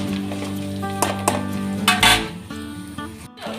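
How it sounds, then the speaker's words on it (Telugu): Tempering sizzles and crackles in a hot pan in a home kitchen, with bursts of frying noise and a clink or two under steady background music. "తాలింపు అయితే వేసాను."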